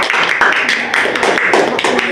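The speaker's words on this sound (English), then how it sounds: "Okay, give applause, guys." A classroom of students claps after a narrative presentation, a burst of close, dense applause with voices chattering and cheering over it.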